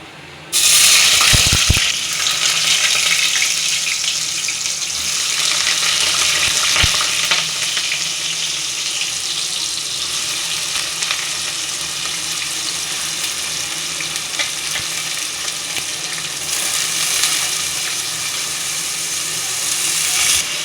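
Mustard seeds, cumin and washed ridge gourd drop into hot oil, setting off a loud burst of sizzling with a couple of sharp pops. A steady, close frying crackle continues with stirring clinks and swells again near the end.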